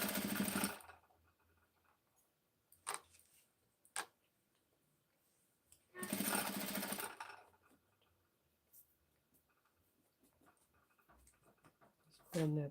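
A sewing machine stitches fabric in short loud bursts with quiet pauses between runs, while a person talks during the gaps.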